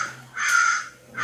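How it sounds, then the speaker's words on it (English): A crow caws outdoors, two harsh calls: one long, loud caw in the middle and the start of another at the end, over a steady low hum. "There's a crow out here crowing"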